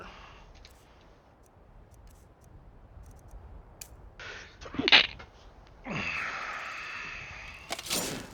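A person sneezes with the mouth closed, a single sharp stifled burst standing out against quiet game background sound and a few soft clicks, with a brief rustle just after.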